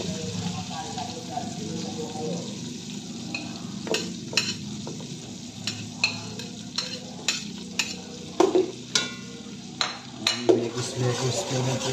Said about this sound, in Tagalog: pwede na siyang lagyan na natin ang ating sibuyas at bawang